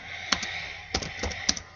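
Typing commands on a computer keyboard during Minecraft-style faction server play: a handful of crisp, close key clicks in a short, irregular burst.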